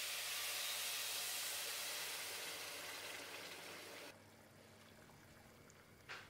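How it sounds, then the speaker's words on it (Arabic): Steady pouring hiss of boiling broth splashing into a pot of Egyptian rice with nuts, continuous for several seconds, then quieter after a sudden drop, with a brief clink near the end. "اول ما تغلي هنزلها على الرز"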